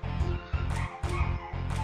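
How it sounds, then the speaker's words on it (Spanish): A dog in the background of a Final Fantasy VIII livestream whines and yips in rhythmic, repeated short cries, about four in under two seconds, fairly close and with no talking. "el perro. Está llorando"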